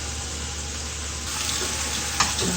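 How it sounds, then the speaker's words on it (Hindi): A small onion goes into two tablespoons of hot ghee in a pan, starting as a steady low sizzle that swells partway through, with a brief clatter near the end. "ये इसमें एक छोटी सी प्याज है वो डाल देंगे और इस प्याज को अच्छा ब्राउन करना है"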